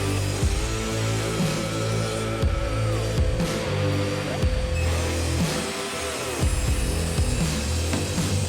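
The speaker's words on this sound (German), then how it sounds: "Aber jetzt gehen wir mal auf die Kreissäge, werden jetzt hier erstmal ein paar Streifen 80 mm rausballern, raussägen" A circular saw rips 80 mm wide strips from wood for a magnetic knife block, with a loud, steady motor drone and repeated rough cutting passes as each strip goes through.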